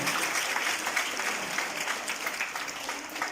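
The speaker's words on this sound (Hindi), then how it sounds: "जोरदार तालियों से उनका उत्साह रहेगा" Continuous applause from a school crowd at an Independence Day prize ceremony, loud and sustained for the winner.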